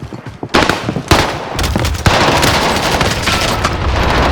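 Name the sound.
Owen Gun SMG firing in a video game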